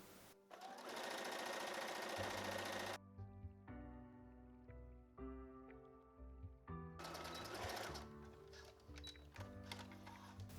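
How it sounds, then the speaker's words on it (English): Sewing machine running a straight stitch across elastic, a steady close mechanical whir and rhythmic ticking with a clear motor tone, speeding and slowing in stretches, moderately quiet with no talking. "I'm just going to do a straight stitch all across the elastic"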